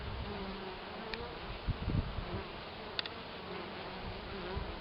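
Honey bees buzz softly around a woven rice-straw hanging basket hive coated in cow dung, a faint continuous drone with a few individual bees passing close.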